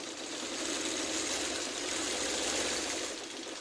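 A sewing machine stitches pieces of a quilt block together, a steady, even whirring hum that runs without pause for a few seconds at close range, with no voices.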